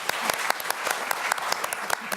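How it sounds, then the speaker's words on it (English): An audience at the 2019 Oregon Foster Care Summit applauds for Brittany, a burst of scattered, uneven hand claps from a moderate-sized crowd with a voice faintly underneath. "Let's give Brittany a round of applause."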